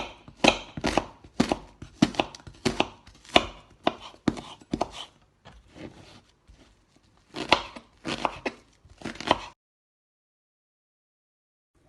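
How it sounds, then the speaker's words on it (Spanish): Knife chopping onion into small slices on a cutting board for homemade lasagna, sharp close thunks in quick bursts with brief pauses between runs, stopping into silence near the end. "ahora cortaremos la cebolla en rodajita pequeña"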